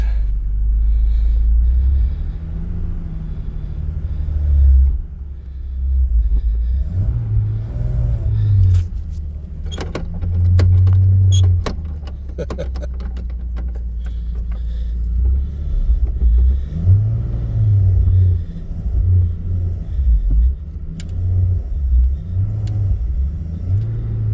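A 1951 Kaiser car on a test drive, its engine rumbling loud and close with a fuel tank strapped to the hood, rising and falling with revs and rattles, no one talking.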